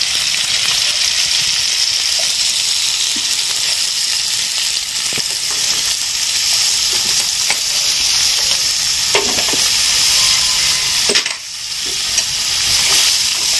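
Onions frying in hot oil with mustard seeds and cumin, a loud, steady sizzle with occasional stirring scrapes and a brief dip near the end.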